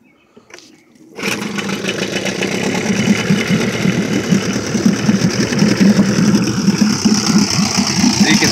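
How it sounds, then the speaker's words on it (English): A Johnson 9.5 horsepower short-shaft outboard motor starts after a brief quiet moment and settles into a steady, close, buzzing idle with a fast even putter that continues to the end. "Very nice running little motor."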